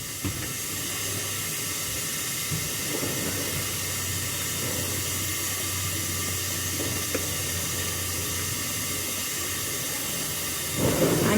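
Rohu fish slid into hot oil sets off a steady, broad sizzling hiss that holds for the whole stretch, rising slightly louder at the very end, with no talking.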